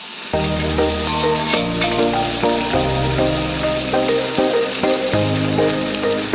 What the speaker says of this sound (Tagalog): halu-haluin ulit natin hanggang sa ma-fry yung ating potato and beans